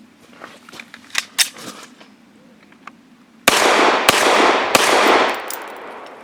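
Three sharp shots from a Remington RP9 pistol firing 115 grain steel case ammo, loud and close, each with a ringing decay, after a few quieter clicks and handling noises.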